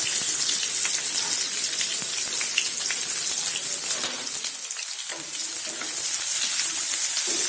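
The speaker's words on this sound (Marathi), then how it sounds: "जिरं मोहरी व्यवस्थित झाले की याच्यात आपण कांदा टाकून घेऊया." Onion going into hot oil with tempered cumin and mustard seeds for a peanut amti, giving a steady close sizzle and crackle throughout with light stirring noises and no talk.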